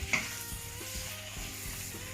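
Prawns sizzle steadily in hot oil with a close, continuous crackling hiss and a few soft stirring knocks; no one speaks.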